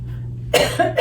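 Two sharp, close coughs in quick succession, the second shorter, over a low steady hum.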